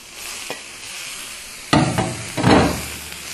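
Shrimp dropped back into a hot stir-fry pan with bell peppers and snow peas: a steady close sizzle jumps into two louder hissing, crackling surges as the food lands and gets stirred.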